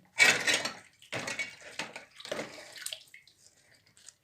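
Metal ornaments are rinsed in water, giving several short bursts of splashing and running water, close and fairly quiet, with brief pauses between them and trailing drips at the end.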